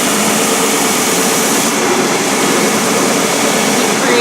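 A sanding machine runs in a workshop with a loud, steady, broadband whirring roar that holds constant throughout, close to the microphone and with no talk heard.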